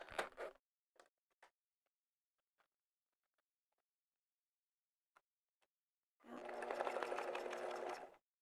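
Sewing machine stitching a jelly vinyl zipper pouch, heard mostly as a steady burst of motor whir near the end, with a few scattered small clicks and taps in the quiet before it.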